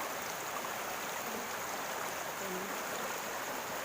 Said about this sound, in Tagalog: Daloy ng tubig.